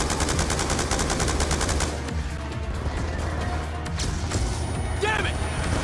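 Rapid gunfire in the Call of Duty Black Ops 2 final mission, dense bursts with a rhythmic machine-gun rattle at the start, then continuous shots and crashes amid combat noise, with voices shouting over it.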